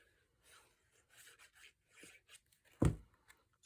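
Quiet scraping and rubbing as a piece of patterned paper is trimmed slightly for a craft folio, with soft intermittent strokes and one sharper thud near the end.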